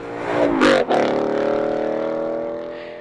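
A car fitted with a Bolla Attack exhaust revs sharply, a loud rasping burst that peaks and cuts off, then drops into a steady droning idle that slowly fades.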